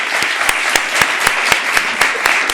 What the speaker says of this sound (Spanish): le despedimos con un fuerte aplauso